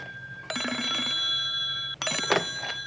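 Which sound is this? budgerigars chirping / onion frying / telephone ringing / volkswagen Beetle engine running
telephone ringing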